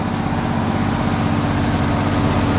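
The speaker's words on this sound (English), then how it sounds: "I think Dad is trying to have a semi-drag race." A semi truck's diesel engine pulls away, heavy, low and steady with a constant droning rumble close by, its pitch holding fairly even throughout.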